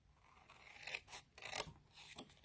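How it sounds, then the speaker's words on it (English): Scissors cut a cardstock tab along its score line: a few short, crisp snips and rasping cuts with a brief pause as the piece is turned, quiet and close with no talking. "I like to cut it on the score line, turn it, and cut the other side."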